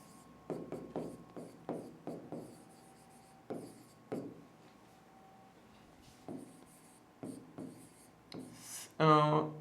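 A pen or pencil writes by hand on paper during a physics lesson on projectile motion, making a series of short scratchy strokes in uneven clusters, close and fairly quiet, with a brief burst of other sound at the end.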